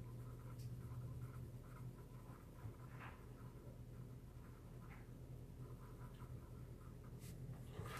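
Black Widow colored pencil shading a light black layer over other colors on paper, producing continuous soft scratching strokes, close and fairly quiet, with a few faint ticks and no speech.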